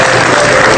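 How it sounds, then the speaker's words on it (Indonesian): A brief, loud burst of studio audience applause on an Indonesian comedy show, dense and sustained for under a second. "tepuk tangan untuk Cici Panda"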